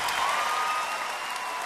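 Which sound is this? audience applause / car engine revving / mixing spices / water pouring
audience applause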